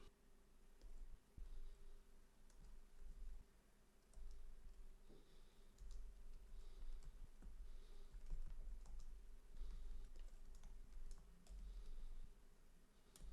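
Typing on a computer keyboard, a quiet, close, irregular patter of key clicks running continuously in bursts with short pauses.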